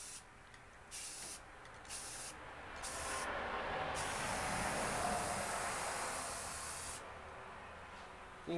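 A spray paint can hisses in bursts while bright red paint goes onto parts of a Murray 20-inch push mower during a rebuild. Several short sprays come first, followed by one long steady hiss up close with no talking.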